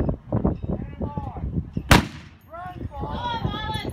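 Pistol shots ring out at a Master Gunfighter shooting competition at the 2017 Nationals, with one loud sharp crack standing out among rumbling reports and crowd noise while a commentator talks over them.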